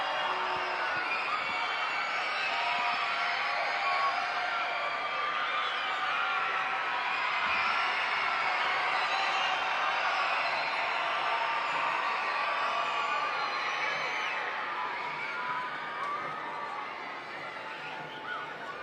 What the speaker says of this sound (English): The crowd's very upset with the goalkeeper right now.